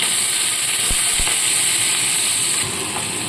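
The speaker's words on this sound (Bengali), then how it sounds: "এবার এখানে আমি দিয়ে দেবো কুচিয়ে রাখা পেঁয়াজ" Chopped onion dropped into hot oil with black cumin seed and a slit green chilli for a pabda fish curry, giving a loud, steady, close sizzling hiss that runs throughout with only a couple of soft knocks.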